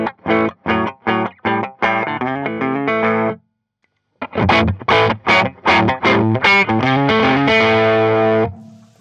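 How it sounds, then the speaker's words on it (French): Overdriven electric guitar through a Marshall JMP-style overdrive pedal, played as loud chopped chord stabs, then a brief pause and further chords that end in a long sustained ringing chord. "Donc là, on est vraiment sur une pédale qui ressemble à un JMP en fait."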